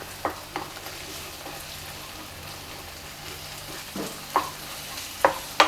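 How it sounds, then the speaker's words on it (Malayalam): Eggs frying with masala in a pan sizzle softly while a spoon scrapes and stirs, with several clear clicks of utensil against pan, and no voices. "ഈ മുട്ടയൊന്ന് ഇതുപോലെ ഇളക്കി എടുത്തിട്ട് പിന്നെ നമുക്ക് ആ മസാലയൊക്കെ കൂടെ കൂട്ടിയിട്ട് അങ്ങ് ഇളക്കിയെടുക്കാം"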